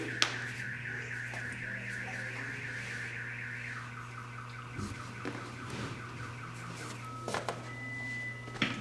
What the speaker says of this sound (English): the car alarm,